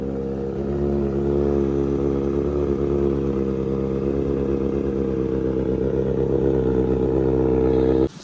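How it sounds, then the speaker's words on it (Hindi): A motorcycle engine idles and runs steadily up close, a loud, even rumble held for about eight seconds before cutting off abruptly at the end. "चलो बाइक लेके चलते हैं।"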